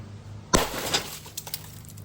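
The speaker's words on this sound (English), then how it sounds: "And now there's glass everywhere." A BMW E36 car door window shatters after a small tap, a sharp loud crash followed by a spray of tinkling glass fragments settling with a few small clinks, no talking.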